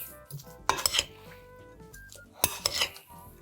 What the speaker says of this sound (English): I'll just keep pulling from the bottom and keep spinning the bowl as I mix it